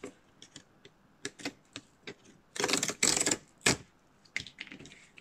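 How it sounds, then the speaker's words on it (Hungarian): Tearing open the paper wrapping on a trading card box: a flurry of close, crisp rips and crackles, with scattered small clicks and handling taps before and after. "Tépjük föl."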